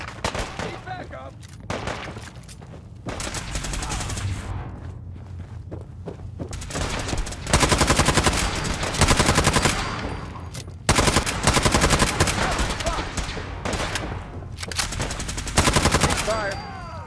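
Heavy gunfire from Fallout 4 combat comes in several long, loud automatic bursts separated by short quieter gaps, with sporadic single shots and brief shouted voices in between.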